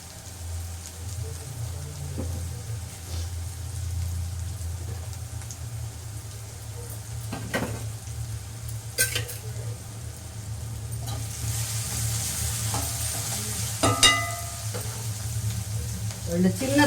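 Onions sautéing with a little salt in a pan make a steady, close sizzle over a low hum, with occasional light clinks and stirring noises throughout.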